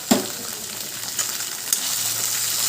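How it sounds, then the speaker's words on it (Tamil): Small shallots dropped into a pan of ginger-garlic paste for a Kerala-style beef gravy, opening with a sharp hit and then a continuous bright sizzle with occasional spatters and scrapes, close up and uninterrupted by voices. "சின்ன வெங்காயத்தை ஆட் பண்ணி நல்லா வதங்கட்டும்"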